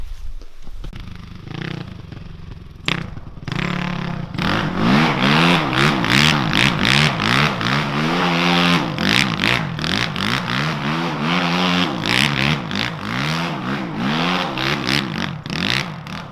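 A Can-Am Maverick X3 Turbo side-by-side off-roader revs hard while spinning donuts, its engine note rising and falling in repeated loud sweeping surges close by, with no talk over it.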